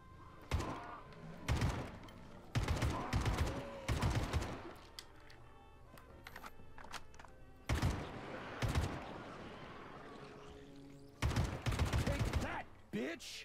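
Hip-fired gunfire in Atomic Heart: short, loud bursts of rapid shots separated by pauses, about eight clusters spaced unevenly, with quieter game ambience between them.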